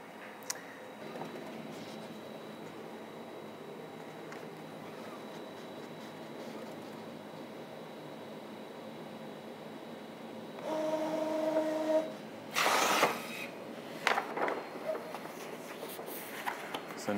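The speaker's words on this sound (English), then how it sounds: "now our image is printing on our wide format printer on our Epson" An Epson 9900 wide format printer runs quietly with a faint steady whir, then louder mechanical passes, a tonal motor whine and brief clattering bursts near the end.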